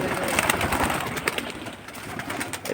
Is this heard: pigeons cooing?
yes